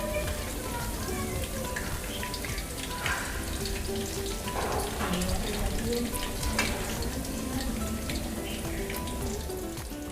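Green turmeric paste sizzling steadily as it is sautéed in a hot pan, a constant crackling hiss with occasional stirring sounds and faint talk in the background.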